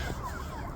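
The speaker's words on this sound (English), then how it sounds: "lots of sirens." Emergency vehicle sirens wail on a freeway, a brief wavering tone over steady traffic rumble, moderately distant.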